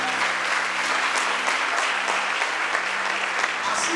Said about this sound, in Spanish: Denle esa ofrenda de palmas al Señor.